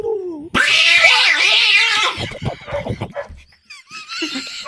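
A person mimics a cat with a long, loud, wavering meow-like yowl, then breaks into a few shorter, softer vocal sounds.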